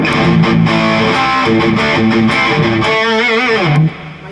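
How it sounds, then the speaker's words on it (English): A heavily distorted electric guitar plays a chunky rock riff with a little amp reverb, sustained chords and a bending note near the end, loud and alone. "heavy rock sound. I got a little bit of reverb in the amp there"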